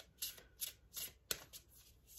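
A deck of oracle cards being shuffled and drawn by hand, close and quiet, with several quick riffling bursts and a sharp snap.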